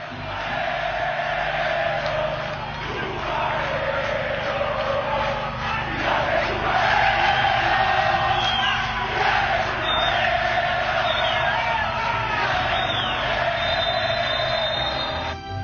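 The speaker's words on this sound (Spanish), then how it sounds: "este tipo de festejo y de grito de ese público que se fue ayer a mirar este partidazo" A football crowd celebrating a semifinal match cheers and shouts continuously, with loud chanting and whistles, as played from a recording.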